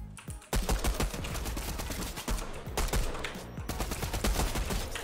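A pump shotgun fires in a Fortnite-style video game, one sharp blast after another, mixed with other rapid gunfire and loud in-game action, with no speech.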